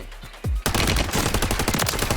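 Dual machine guns fire in the video game Warzone: a short thump, then a loud, sustained burst of rapid automatic gunfire that runs to the end.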